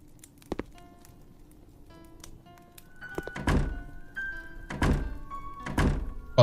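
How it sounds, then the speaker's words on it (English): Heavy thuds of a door being banged in the video game Piggy, several dull blows in irregular bursts over quiet game music with tonal chimes, with the loudest hits toward the end. "that's me banging on the door"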